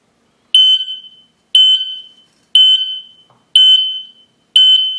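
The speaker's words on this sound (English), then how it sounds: "let's try and trigger the alarm. I use my soldering iron to create smoke." An interlinkable smoke alarm, set off by smoke from a soldering iron, sounds loud, shrill electronic beeps in five even bursts about once a second, each fading slightly, with nothing else heard.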